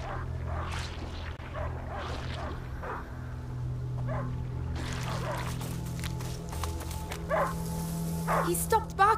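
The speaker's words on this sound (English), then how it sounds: "He stopped barking." Dog in the 2019 game A Plague Tale: Innocence gives a series of short, fairly near bow-wow barks and yips across the scene, with a steady ambient drone and voices talking over it.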